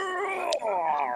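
A house cat gives a drawn-out, wavering yowl that rises and bends in pitch, close and fairly loud, with no other sounds around it.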